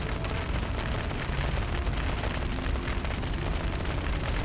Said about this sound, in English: he's launched a fireball. That fireball has lit the grease on fire.